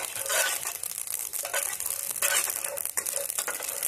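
Cashews fry in oil over a low-medium gas flame, giving a soft, close, irregular crackle and crinkly spitting that continues steadily for a few seconds.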